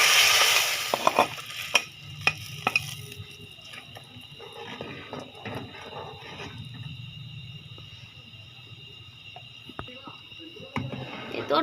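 Dal is poured over fried onions in a pan, setting off a sharp, bright burst of sizzling at first that quickly settles into a quieter simmering crackle, with a few clinks and a soft voice in the background.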